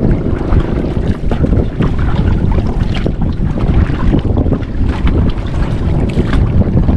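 A boat motor runs hard on the open sea in a storm, a loud steady drone buried under heavy wind buffeting and crashing waves throughout.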